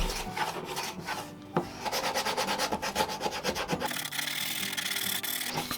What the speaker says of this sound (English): I am going to go and sand off every edge on it